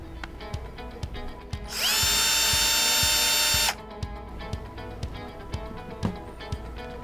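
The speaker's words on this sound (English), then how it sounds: "Rotate the chuck in the closed position" The motor of a Bosch GSR 120-LI cordless drill with a keyless chuck whirs in one loud, steady burst of about two seconds, set among small clicks and ratcheting taps from the chuck being turned by hand.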